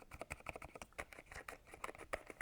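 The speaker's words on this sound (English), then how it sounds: "you can hear the noise emitting from these keys, even if you hit them hard and try to type" Typing on an Epomaker TH80 Pro V2 keyboard fitted with quiet switches, soft, faint key clacks in a quick irregular patter, heard alone.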